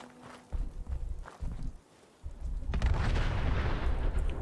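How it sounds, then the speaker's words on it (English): A vehicle explodes in Fallout 4: a few dull thuds and scuffs give way to a loud, rumbling blast that keeps roaring and crackling to the end. "see that one exploded now"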